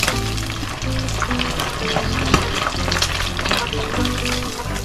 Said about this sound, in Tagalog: Pumuputok-putok po.